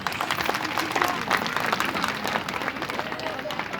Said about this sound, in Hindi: आप सब के लिए भी एक जोरदार ताली